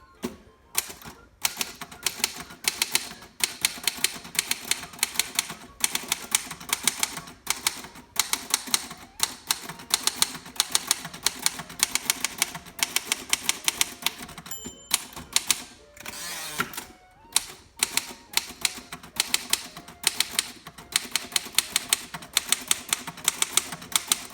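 Keys clatter on a 1936 Royal Model O manual typewriter, crisp rapid snappy strikes in bursts with brief pauses, close and loud, and a carriage or lever sound midway.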